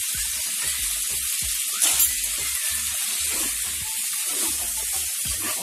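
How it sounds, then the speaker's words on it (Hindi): Tomatoes and green chillies frying in a pan give a continuous crackling sizzle and hiss, broken by soft stirring knocks at an uneven rhythm. "थोड़ा सा हम इसको भूनेंगे ताकि टमाटर सॉफ्ट हो जाए"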